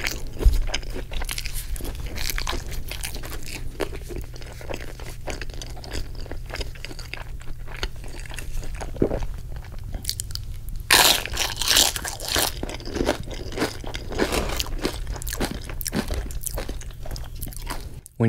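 Close, crisp crunching and chewing of a bean and cheese burrito with handmade tortilla chips, steady bites and crackly crunches repeating throughout with no talking.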